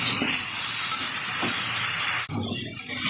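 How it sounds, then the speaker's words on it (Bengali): Mixed vegetables stirred in hot oil in a pan for a vegetarian five-vegetable dish, a steady close hissing sizzle with faint scraping, a brief pause near the end before the frying resumes. "বেশ কিছুক্ষণ সময় ধরে আমি সবজিটা নেড়ে চেড়ে নিয়েছি তেলের সাথে"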